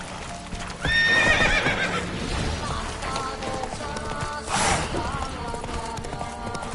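A horse whinnies loudly near the start and again later, with trotting hoof clip-clop underneath and some background voices.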